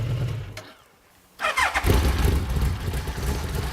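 A motorcycle engine cuts out briefly, then fires up and revs loudly, its exhaust crackling and popping nearby.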